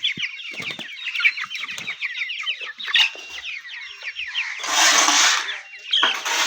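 A dense chorus of broiler chicken clucks and peeps from many birds nearby on a farm, continuous and busy, with a brief burst of rustling noise partway through.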